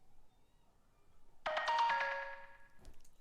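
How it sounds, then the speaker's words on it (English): A bright, tuned metallic synth click, likely an Alchemy preset, strikes suddenly, ringing with sustained tones that fade over about a second, with a faint click afterward. "The tuned metallic click."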